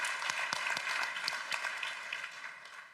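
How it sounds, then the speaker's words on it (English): Audience at an EU life sciences event applauds a speaker, a steady round of clapping that runs evenly and tapers off at the end, with no talk over it. "another round of applause for Jeroen"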